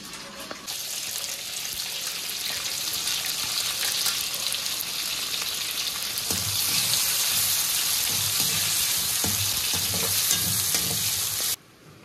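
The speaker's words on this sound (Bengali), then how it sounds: "ওই তেলের মধ্যেই পেঁয়াজ কুচিটা ভেজে তারপরে তুলে রাখবো" Chopped onion fries in hot oil for a restaurant-style chicken kosha, a loud, dense, continuous sizzle heard close up with faint stirring scrapes, stopping abruptly near the end.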